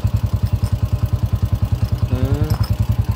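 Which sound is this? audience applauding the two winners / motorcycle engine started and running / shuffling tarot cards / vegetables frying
motorcycle engine started and running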